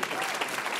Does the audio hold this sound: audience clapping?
yes